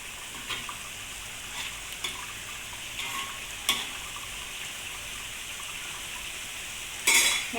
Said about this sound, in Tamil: இப்போ நம்ம கிண்டி அதுவாக அப்படியே கிண்டி விடுங்க